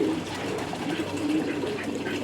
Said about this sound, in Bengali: কাতারে কবুতর পালন এবং কবুতরের বিষয়ে এসে কবুতরের কাজ করতেছি